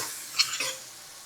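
Onions hit a hot pan with a brief, sharp hiss of frying that peaks quickly and then fades within a second.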